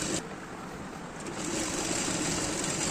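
A sewing machine stitches sleeves onto a nighty with a continuous, close mechanical whir that grows slightly louder partway through.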